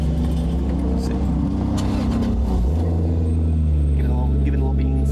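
A Toyota Altezza with a 2JZ-GTE engine idles loudly close by, its engine note shifting and dropping partway through before settling into a steady rumble, with people talking over it.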